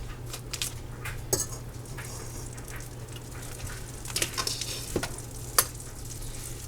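Minced garlic sizzles in a hot pan with a steady crackle, broken by several sharp clicks and scrapes of a utensil stirring against the metal. No one speaks.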